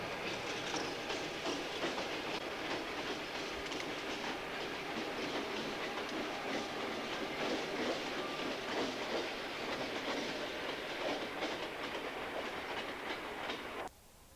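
A Bangor and Aroostook railroad train rolls past through open dandelion fields, a steady rumbling roar of wheels and cars that cuts off abruptly near the end.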